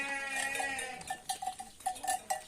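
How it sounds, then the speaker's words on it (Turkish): Sheep grazing on open village pasture, with goats among them, carry clanking bells that ring in uneven, overlapping strikes, close by, with a faint bleat early on. "Bunlar da amcamın koyunları. Buralarda yayılıyorlar."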